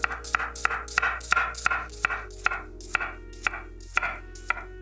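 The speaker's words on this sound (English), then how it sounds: "So I'm going to test it with an onion. I'm going to see if it got some nice give. I'm just going to slice through." A kitchen knife slices through an onion on a cutting board with about a dozen crisp, evenly spaced chops, close and clear with no talking.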